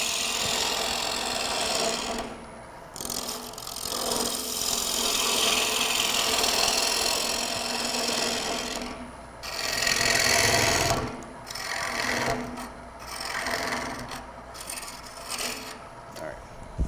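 A wood lathe taking a roughing cut on a turning blank during a live demonstration: a loud, continuous grinding rasp of the tool against spinning wood, with brief dips as the cut pauses and resumes.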